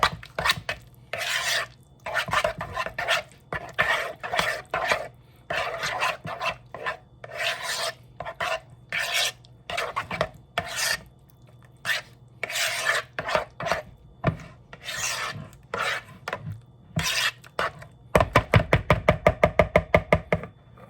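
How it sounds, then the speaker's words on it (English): Repeated scraping strokes of a utensil working a food mixture around a bowl, steady rhythmic rasps close to the mic, ending in a quicker burst of short strokes. "And we're gonna mix this mixture together."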